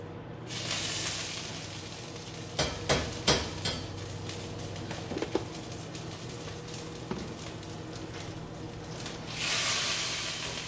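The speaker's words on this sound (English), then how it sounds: "Got a little EVOO skillet in hot. Add some butter." Butter sizzles in a hot skillet of olive oil set to medium-high, a steady broadband hiss with louder bursts near the start and end and a few clinks of utensils against the pan.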